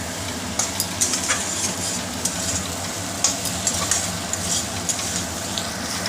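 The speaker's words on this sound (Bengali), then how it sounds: "এই বন্ধুরা এখন এই মাংসগুলো দিয়ে দিলাম। এখন এটাকে একটু ভাজা ভাজা করব।" Chicken pieces fry in a pan with a steady, close sizzle, while a spoon stirs and scrapes through them in repeated clinks throughout.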